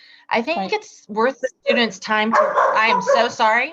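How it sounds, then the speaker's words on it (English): A pet dog barks in a home while a person is recording a podcast from home. The barks are brief and sit under close, steady talk. "That's my dog."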